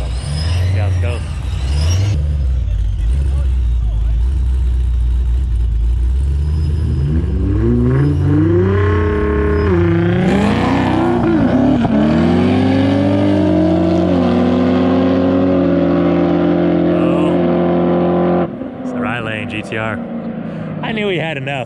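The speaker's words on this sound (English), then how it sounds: "So the GTO is going to wait for the GTR to leave and then it's going to race." A supercharged Pontiac GTO races a Nissan GTR: the engine revs up loudly with rising, climbing pitch through several gear changes, then cuts off sharply near the end, with people talking over the roar.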